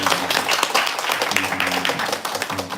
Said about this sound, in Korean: 잠깐 박수 한번 할까요?